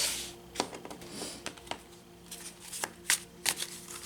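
Tarot cards slapped down one at a time onto piles, producing soft irregular flicks and taps, close and fairly quiet with no talking.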